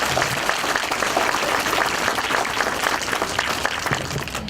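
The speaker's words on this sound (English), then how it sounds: "Give her a round of applause" A school crowd gives applause for an alderman at an elementary school fitness event, producing a thick, steady roar of many hands clapping at once, loud and sustained throughout.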